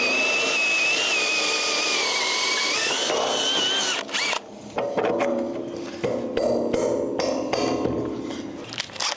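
A power drill whirs loudly in long continuous runs while bolting a beam on a house construction site, then falls into shorter bursts and clattering knocks of tool and metal nearby.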